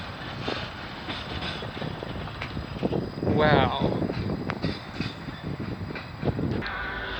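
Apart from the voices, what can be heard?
CN train passing in Burlington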